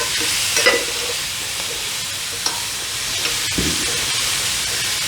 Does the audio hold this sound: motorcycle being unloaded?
no